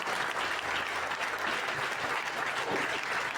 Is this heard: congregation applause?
yes